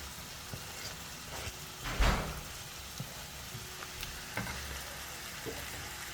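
Tomatoes added to a pan with grated garlic, giving a steady soft sizzle and crackle with a louder hiss burst near the start, no talking over it.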